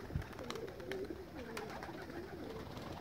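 Pigeons coo in soft, repeated throaty phrases, close and steady over outdoor background noise, with a brief thump near the start and no speech.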